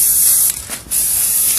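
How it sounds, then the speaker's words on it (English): A paint-and-primer spray can hisses steadily and loudly onto a 3D-printed helmet, dipping briefly midway before resuming. "Oh, paint and primer. Good. We're just gonna spray this on here."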